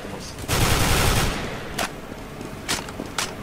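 AK rifle fire in Counter-Strike: Global Offensive: a loud close burst of automatic shots, followed by several sharp, separate single cracks spaced about a second apart.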